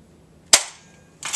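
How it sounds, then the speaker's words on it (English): Sniper rifle headshot in a video game, one sharp, loud crack with a short ringing tail, followed by a second burst of noise a moment later, with no talk. "You just need to look through your scope and aim for the head."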